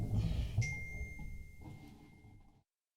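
A phone notification sounds as a single clear, ringing ding that lingers briefly over soft low background noise before the sound cuts to silence.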